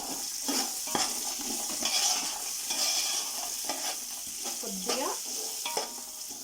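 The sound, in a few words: stirring spices into corn dish in a pan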